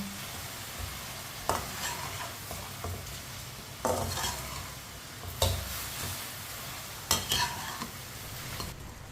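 A sugar mixture cooking in a pan, stirred with a spoon in slow, evenly spaced scraping strokes about every two seconds over a low continuous simmering hiss, close and moderately quiet.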